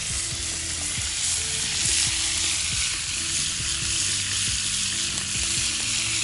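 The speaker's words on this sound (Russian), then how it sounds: "Сейчас мы мясо зажарим до золотистой корочки" Meat fries in a pan outdoors by a river on a fishing trip, producing a loud, steady, crackling sizzle up close, with low background sounds and no speech.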